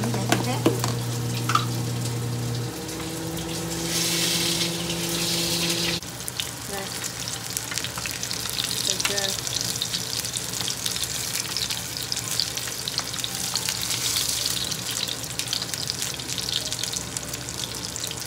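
Burger patties fry in pans on low heat, giving a continuous close sizzle with a steady hum beneath and occasional scraping and knocks.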